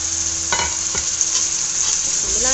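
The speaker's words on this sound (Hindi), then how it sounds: "अब हम क्या करेंगे, अपने टमाटर और मिर्च की ग्रेवी को इसमें डाल देंगे" Tomato and chili gravy poured into fried onions in a pan, a steady loud sizzle with a couple of stirring scrapes, no talking.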